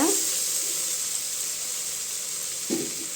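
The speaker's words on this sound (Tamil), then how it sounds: "இப்போ நல்ல காயெல்லாம் கொஞ்சம் நல்லா வதக்கி விட்டு வெந்துருச்சுங்க" Mixed vegetables sautéing in a pan for a vegetable rice dish, giving a steady soft sizzling hiss throughout with a brief scrape or stir near the end.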